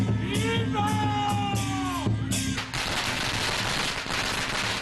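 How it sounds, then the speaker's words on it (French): Firecrackers go off for a Hakka wedding procession, a dense, continuous crackling barrage that takes over after a short stretch of steady tonal sound and keeps popping loudly to the end. "on commence à entendre le son des pétards qui accompagnent le départ de la procession"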